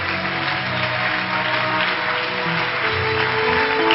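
A church congregation applauds and acclaims the Lord, a steady wash of clapping and cheering voices filling the hall at even loudness throughout.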